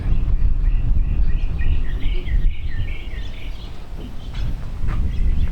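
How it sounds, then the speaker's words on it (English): Birds chirp and twitter steadily outdoors on a raisin farm, a dense chorus of small calls over a low background hum, fairly close and continuous, with no talking. "Hear the birds chirping in the background."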